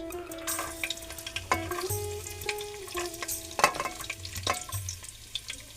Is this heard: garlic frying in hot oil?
yes